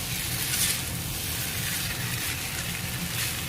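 Potato pieces fry in a pan with a steady, soft sizzle of hot oil, continuous and fairly quiet without talk.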